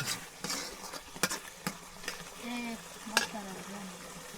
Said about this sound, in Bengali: নানি বিভিন্ন ধরনের বাটা মশলা দিয়ে, গুঁড়া মশলা দিয়ে মশলা কষিয়ে নিচ্ছে